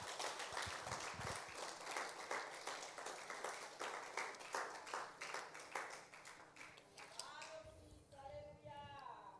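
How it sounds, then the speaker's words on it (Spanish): A church congregation claps together during a service, a dense, rhythmic wash of hands that runs for several seconds before fading, with voices and music rising near the end. "Regálele ese fuerte aplauso al Señor."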